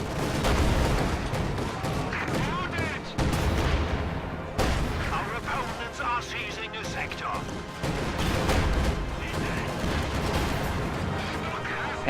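Light artillery and gunfire in a World War II real-time strategy match, with dense overlapping blasts and shots rolling continuously under a commentator's voice.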